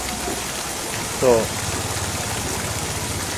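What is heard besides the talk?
heavy rain in Ramgarh Shekhawati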